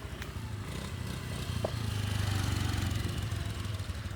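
Scooter engine running steadily on a road trip in the Philippines, a continuous buzzing drone with rough low rumble and wind noise, close and fairly even throughout, with one brief click partway.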